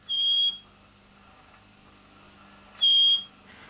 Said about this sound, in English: The machine has a number of safety alarms which will sound if something goes wrong during dialysis.